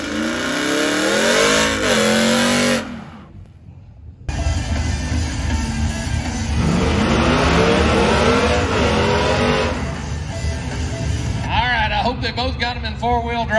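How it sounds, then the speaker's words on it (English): A Dodge Ram Megacab Hemi truck on off-road tires revs hard during a burnout, its loud engine roar rising and falling with a brief dip in the middle; voices talk over the noise. "Normally you don't do a burnout on these tires that are off-road like this"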